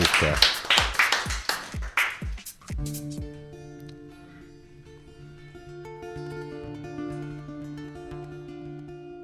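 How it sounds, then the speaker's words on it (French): A few seconds of scattered audience claps open a televised telethon performance, quickly giving way to sustained instrumental notes as the song begins. "on vous écoute et on vous applaudit pour commencer ce morceau"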